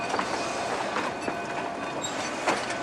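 Rail cars rolling past at close range, a steady rumbling roar with faint wheel clatter and occasional light squeals, no voices.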